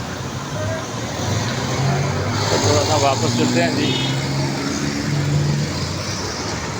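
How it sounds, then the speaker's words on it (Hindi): Road traffic at Sherawala Chowk in Haripur during a shutter-down strike, a steady wash of passing cars and motorbikes with a horn-like tone, while someone talks close over it. "शेरा वाला चौक हरीपुर देख सकते हो सिर्फ और सिर्फ ट्रैफिक जारी है"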